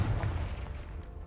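A Confringo blasting spell goes off in Hogwarts Legacy, a single sharp thudding blast with a short rumbling decay that fades out within about a second.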